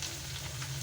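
Cumin seeds fry in a pan with soft potatoes and okra, giving a steady close sizzle that runs briefly and evenly.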